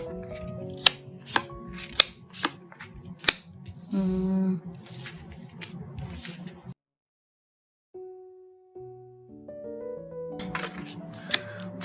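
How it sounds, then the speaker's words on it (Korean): Tarot cards shuffled and drawn for a love reading, giving crisp flicking snaps and clicks over soft background music, then a brief silent gap before a few more quick card snaps. "자, 이렇게 카드를 뽑아봤습니다."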